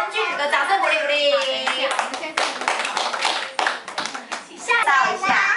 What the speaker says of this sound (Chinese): 给人俊宇哥掌声鼓励鼓励